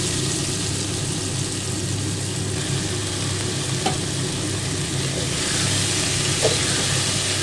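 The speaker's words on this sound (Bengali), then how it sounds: "এবার তেল গরম হয়ে গেছে, তার মধ্যে আমি এই সবজিটা ঢেলে দিলাম" Chopped vegetables with green chillies frying in hot oil over high heat in a Bengali kitchen, a loud steady sizzle with a few faint stirring scrapes and no talk.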